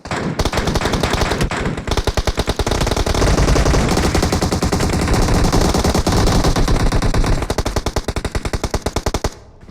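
Sustained automatic gunfire in a PUBG Mobile closed custom room match, rapid loud bursts running almost continuously with brief pauses between volleys.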